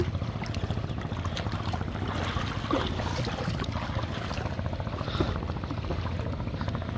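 A boat out on the sea at Kuakata beach, a steady low engine-like rumble with wind buffeting the microphone, continuous and fairly close.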